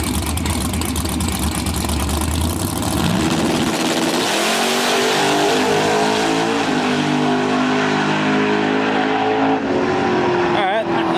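A big-turbo Ford Mustang drag car makes a full pass at a drag racing event. The engine roars loudly and continuously, rising in pitch as it accelerates down the strip, with crowd noise and voices underneath.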